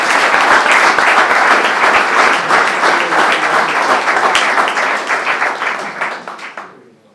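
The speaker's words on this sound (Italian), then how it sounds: "e fare un applauso" Audience applause at a book presentation about football in Mirano, dense steady clapping from a crowd that fades away toward the end, with a brief word spoken over it.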